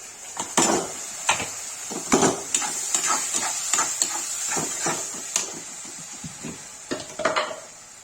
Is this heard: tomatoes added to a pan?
yes